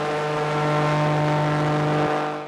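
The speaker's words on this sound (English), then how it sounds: "join other tourists in a boat powered by aircraft engines to travel" An airboat driven by an aircraft engine cruises through a swamp, giving a loud, steady droning roar with a strong low hum that holds evenly and then cuts off sharply near the end.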